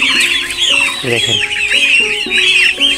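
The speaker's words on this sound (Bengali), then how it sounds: "দেখেন এই যে আবার এই পাশে ছোট্ট ছোট্ট মুরগির বাচ্চা" Small chicks on a cattle farm in Sirajganj, Bangladesh peep in rapid, wavering high notes while a hen clucks close by. A voice speaks a single word briefly.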